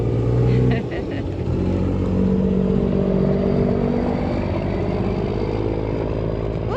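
A hauling vehicle heads off to fetch another load of limestone on raw rural land, its engine running steadily and fairly close throughout with a brief clatter near the start, while wind blows and a voice talks over it.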